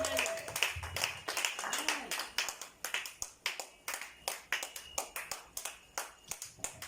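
A church congregation claps in a quick, even rhythm for Jesus, sharp bursts repeating over several seconds, with some voices and a shout mixed in underneath.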